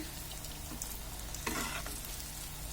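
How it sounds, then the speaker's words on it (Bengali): Tikka kabab frying in oil, a steady close sizzle that holds throughout with a brief louder burst of crackle midway; no voices. "তো আমাদের ভাজা প্রায় হয়ে আসছে মাশাআল্লাহ করে।"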